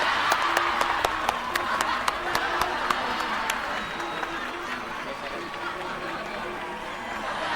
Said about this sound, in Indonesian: Tepuk tangan semua, tepuk tangan.